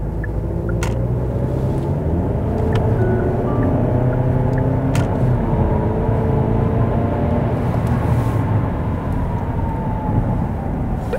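Used car on a road test after repairs, its engine and road noise a steady, loud low rumble heard from inside the cabin, with a few faint clicks and no talking.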